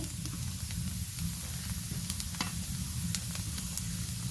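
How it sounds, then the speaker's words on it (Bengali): Lentils (dal) fry in a pan with a steady, close sizzle and hiss, broken by small crackles and pops as they brown, with no talking. "ডালটা ভাজা হয়ে গেলে এই রকম একটু সাউন্ড হবে তখন বুঝে নেবেন ডালটা ভাজা হয়ে গেছে"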